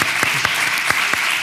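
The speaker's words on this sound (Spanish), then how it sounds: "nuestra participante más joven se merece un aplauso" An audience at an education-week event in Tomiño claps for a young participant, producing a loud, even roar of hands with several distinct sharper claps punctuating it, close up and uninterrupted by voices.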